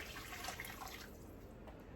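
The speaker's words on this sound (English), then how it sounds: "So 8 cups of water." Water being poured from a measuring cup into a pot for Greek bean soup, a faint, steady splashing stream lasting a couple of seconds in a kitchen.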